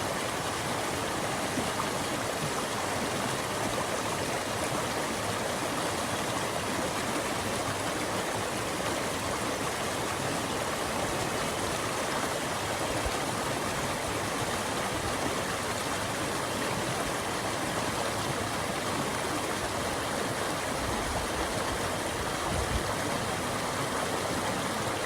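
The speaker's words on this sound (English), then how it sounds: "some water, which I recorded the other week" Steady, full-bodied rush of a flowing river stream, recorded outdoors, loud and continuous without a break and with no voices.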